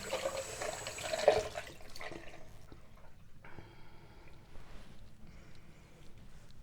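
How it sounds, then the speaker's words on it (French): Water splashing and running at a sink while a face is rinsed with a washcloth, soft close trickles and dabbing sounds with a brief louder splash near the start. "Donc je rince avec une lingette."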